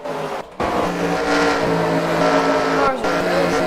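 Engines of race cars in a racing video game set at Richmond roar almost four wide out of a turn, a loud continuous drone with shifting pitch, briefly cutting out twice.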